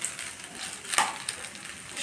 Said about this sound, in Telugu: కలిపేసుకొని స్టవ్ ఇప్పుడు ఆఫ్ చేస్తున్నాను